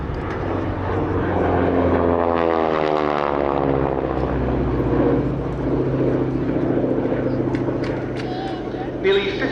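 A Harvard propeller training aircraft, the T-6 Texan, performs at the East Kirkby airshow. Its droning engine note swells and shifts in pitch as it passes close by, while someone narrates over it throughout.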